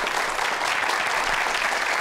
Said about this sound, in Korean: 여러분들 큰 박수로 환영해 주세요.